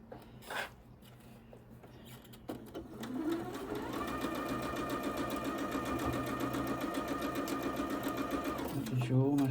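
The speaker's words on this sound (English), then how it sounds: "all my seams are going the way that I want them to under the machine, under the needle" A sewing machine stitches the seams of a pinwheel quilt top made from scrappy Christmas fabric, starting after a few soft handling sounds and then running in a steady, close, whirring hum until the end.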